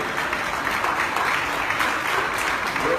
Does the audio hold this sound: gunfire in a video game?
no